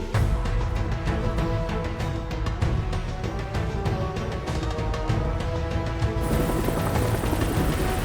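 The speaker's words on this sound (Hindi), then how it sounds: "चार्टेड हेलीकॉप्टर भी मंगा लिया उसने।" A chartered helicopter flies close in a film action scene, producing a loud, continuous rotor thrum and roar with a steady pulsing texture throughout.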